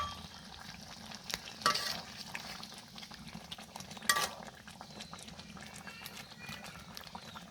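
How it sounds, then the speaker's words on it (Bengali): Mahashol fish being sautéed with ginger and cumin paste in a pan, heard as a quiet, low sizzle with occasional scrapes and clinks of a utensil, one or two louder stirs standing out. "এখন মশলার সাথে মাছগুলো ভালোভাবে কষে নেবে"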